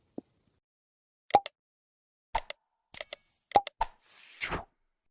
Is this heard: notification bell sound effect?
yes